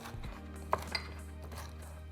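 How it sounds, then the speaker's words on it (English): A knife on a cutting board chops roasted peppers into strips and small cubes, giving a couple of sharp taps over a steady low kitchen hum. "now we're just going to cut it into rajas and then into small cubes"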